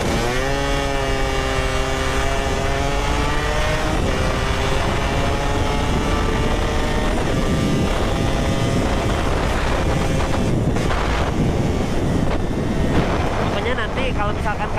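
Suzuki Satria motorcycle engine runs loud and steady throughout, its harmonic tone sliding in pitch as revs change, with wind rushing over the microphone and a voice talking over it.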